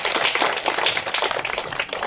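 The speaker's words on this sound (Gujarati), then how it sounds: "ચાલો તાળી બધા માટે જોરદાર તાળી." Dense, steady clapping from a crowd at a primary school Independence Day celebration, sustained and fairly loud for the whole stretch with no voices over it.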